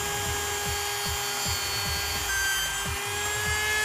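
A Dremel rotary tool with a cutting bit cuts through wire for car spoiler tension cables, giving a close, steady high whine with a rhythmic series of grinding pulses under it.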